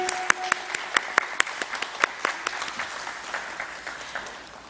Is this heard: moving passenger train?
no